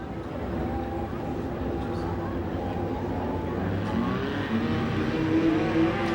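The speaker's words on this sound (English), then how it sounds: "We go yellow with a spinner out of turn number 2, the 14 of Tramino" USAC sprint cars racing under a yellow flag at the Bakersfield track, engines droning and whirring at a distance in a steady wash of crowd and track noise.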